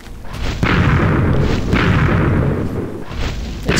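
An explosive gel grenade bursts in a modded Minecraft world, a loud booming blast followed by sustained rumbling detonation noise that rolls on for several seconds with repeated heavy thumps.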